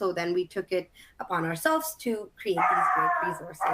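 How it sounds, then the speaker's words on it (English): A household dog barks and yelps in the background of a home video call, intermittent and fairly quiet beneath a person talking steadily in the foreground. "I apologize for my dog yelling in the background."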